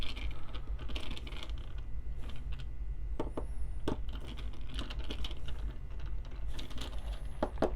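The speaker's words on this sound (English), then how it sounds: "Then we're going to start tightening it one by one. Give it a little bit more torque each time." Small clicks and light mechanical ticks of screws being tightened one at a time on the burr carrier of a Turin DF64E coffee grinder, close by, scattered across a steady low background with no talk.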